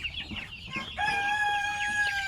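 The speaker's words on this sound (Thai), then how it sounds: "ลูกไก่อายุประมาณหนึ่งเดือนครับผม" Farm chicks about a month old, kept in pens sorted by age, give out thin high peeping calls with a sustained shrill chirp rising over quiet evening background.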